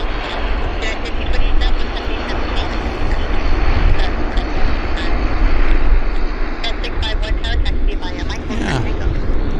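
A Q400 turboprop airliner rolls on the ground after landing at Vancouver airport, a loud, steady engine and propeller drone with a whining hum, heard close with people talking over it.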